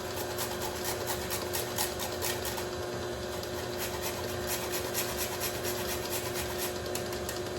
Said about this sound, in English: I'm grating in some fresh nutmeg.